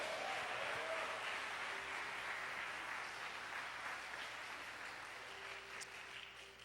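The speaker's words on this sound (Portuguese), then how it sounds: "Dá um aplauso para Jesus." A church congregation applauds in a steady, fairly faint wash of clapping that slowly fades, with no voices over it.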